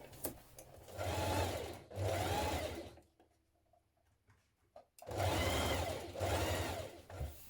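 Sewing machine stitching the bodice to the skirt of a 1970s vintage wrap dress, bursts of steady whirring stitching with a quiet pause in the middle, fairly close and alone.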